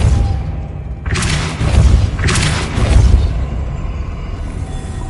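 A Depulso force spell cast in Hogwarts Legacy lands as two heavy, booming thumps about a second apart, each with a rumbling, crackling burst, over a low ambient game drone.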